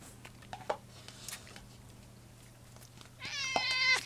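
Domestic cats meow near the food bowls at feeding time, a short call early on and a longer, louder meow near the end over a steady low hum.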